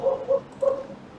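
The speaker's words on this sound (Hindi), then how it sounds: "कुत्ता उत्ता भौंक रहा है" A dog barks three times in short, yipping bursts, moderately loud and a little distant, with no talk over it.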